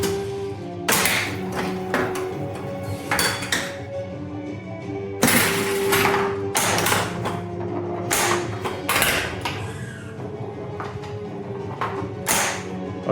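A Stern King Kong Pro pinball machine in play gives off a busy run of sharp knocks, flipper thumps and mechanical clatter over a steady electronic backdrop, loud and close.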